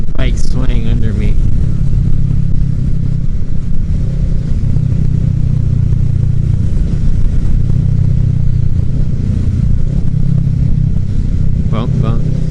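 Motorcycle riding on a windy road, a steady low engine drone with heavy wind buffeting throughout, close and loud, with a brief louder burst near the start and end.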